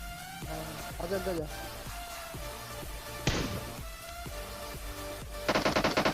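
Battle royale video game gunfire crackles in repeated bursts with single thuds between, ending in a rapid automatic volley, all under someone talking.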